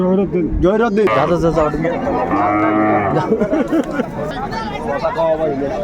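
Cows and calves moo repeatedly in long, drawn-out calls over the steady murmur of a crowd at the Ambari cattle market in Dinajpur, with people talking nearby throughout.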